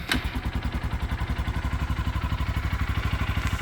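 A Honda motorcycle on half choke, cold-started after sitting for three months with fuel left in the carburetor, runs close by in a steady, rapid, even idle of chugging pulses with some mechanical clatter.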